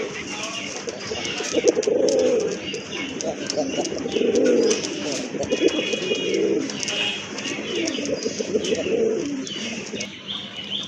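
Pigeons coo in repeated low, throaty phrases every couple of seconds, close by, over a busy background with faint chirps.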